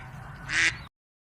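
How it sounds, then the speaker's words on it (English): A single short duck quack, fairly loud and close over a low background hum, then sudden silence. "D for duck."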